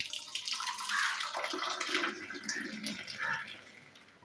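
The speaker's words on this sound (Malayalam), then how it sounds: "ഇനി നമുക്ക് ഈ ക്ലാസ്സിലേക്ക് ഇതിനെ ഒഴിക്കാം" Tea is poured into a glass at a roadside tea stall, a close, steady liquid stream splashing and trickling for a few seconds with no talk.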